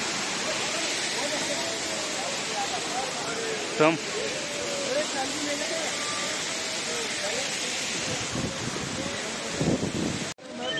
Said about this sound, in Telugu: మంచి వాటర్ ఫాల్ చూడండి వెళ్ళేదారిలో.